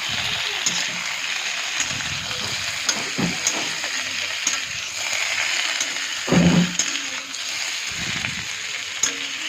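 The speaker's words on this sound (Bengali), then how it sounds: "সেদ্ধ করে রাখা আগে থেকে যে আলু জল ঝরিয়ে রেখেছিলাম সেগুলো তুলে দিলাম" Boiled, drained potatoes are tipped into a pan for a plain vegetarian potato curry and stirred, giving a steady frying hiss with scraping stir strokes and a louder burst near the end, while a voice speaks over it.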